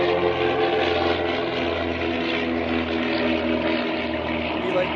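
A propeller airplane flies near an airport, its steady droning engine loud and close, holding a constant hum throughout with no voices.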